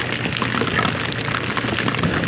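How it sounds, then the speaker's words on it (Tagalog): Heavy rain with large drops pours down outdoors in the Benguet mountains during overnight camping, a dense, loud, steady broadband wash of drumming drops that runs without a break. "Ang lakas po ng ulan dito."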